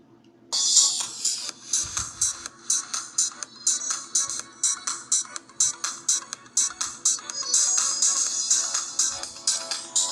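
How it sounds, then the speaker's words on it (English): Pop music plays at full volume from the built-in speaker of an Elephone P8000 Android phone, sounding bright and thin with a steady pulsing beat. "we're gonna be playing the today's hits straight from the phone."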